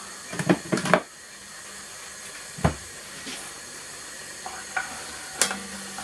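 A beef and ale casserole pan sizzles steadily while plain flour cooks out, and a spoon stirs and scrapes the bottom in a few sharp clanks and scuffs over the constant frying hiss.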